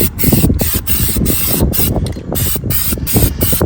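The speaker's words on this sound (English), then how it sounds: "We're going to start spraying some Plastidip here on the inside." An aerosol can of Plastidip sprays steadily and loudly onto the inside of a 2012 Nissan Rogue's wheels outdoors, a continuous hiss broken by several brief pauses.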